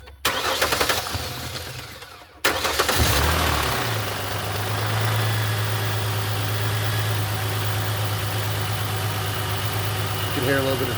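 After a 2007 Ford Mustang oil change, the starter whirs briefly, the engine fires with a rising surge, and it settles into a steady, close, even idle that runs on alone.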